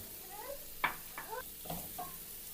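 Chicken sizzling in a frying pan for restaurant-style chicken tikka macaroni, with a few sharp utensil scrapes and clinks over a steady low hiss; no talking.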